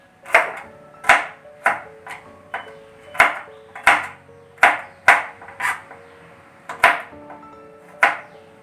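Steady knife chops on a cutting board as garlic and green chillies are sliced lengthwise, about a dozen crisp, evenly spaced strikes, close and clear.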